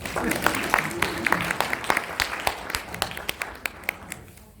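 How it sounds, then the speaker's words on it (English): An audience at a spiritual talk applauds, a moderately dense patter of claps with individual hand strikes standing out, gradually thinning and fading toward the end. "Clap for her also"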